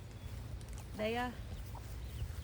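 Backyard garden chickens approaching, with one clear cluck standing out near the middle over a faint low background murmur, otherwise quiet.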